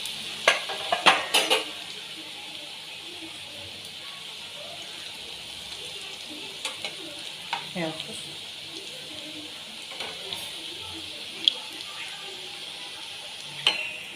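Taro leaf rolls (aluvadi) fry in oil with a steady hissing sizzle, joined by scattered utensil taps and scrapes as they are turned.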